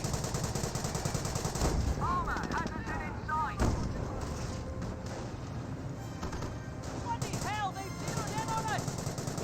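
Battle gunfire in Company of Heroes 1, Wehrmacht against British forces: dense, continuous rattling of small arms and machine guns with heavy artillery-like blasts, while a commentator talks over the fighting and faint whistling shells arc overhead.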